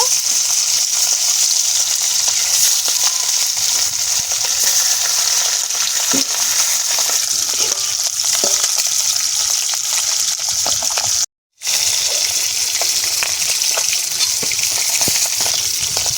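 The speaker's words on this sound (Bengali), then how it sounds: "বাকি মাছগুলো কড়াইতে দিয়ে দেব।" Chela fish frying in hot oil in a wok, with a steady, loud, close sizzle and occasional stirring clatter, broken by one brief gap of silence.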